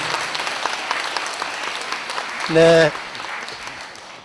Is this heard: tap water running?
no